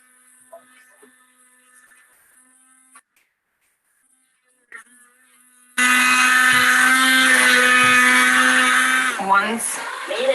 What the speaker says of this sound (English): And then I use my immersive blender.